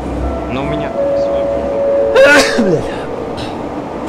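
A single sharp sneeze bursts out midway through a Garry's Mod Metrostroi subway train simulation, over a steady rail and motor drone, with someone talking before and after it.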